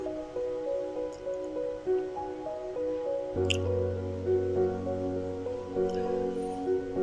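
Chapila fish go into a simmering pot of eggplant, drumstick and potato curry, giving soft wet squishing and dripping over a steady bubbling, with a fuller cooking sound after the fish lands.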